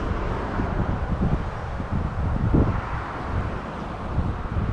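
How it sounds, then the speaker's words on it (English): Steady gusting wind buffets the microphone outdoors beside a roadside swamp, a continuous close rumbling roar with slight surges and no clear voices. "The wind is right in our face, which isn't the best."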